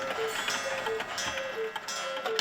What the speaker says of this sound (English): a museum full of the chaotic chiming